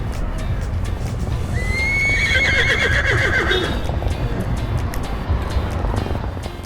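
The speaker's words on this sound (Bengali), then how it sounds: "ঘোড়া হেঁটে বেড়াচ্ছে রাজপথে" A horse whinnies loudly over steady road traffic rumble in Nuwara Eliya, Sri Lanka, with faint hoof clip-clops under the noise.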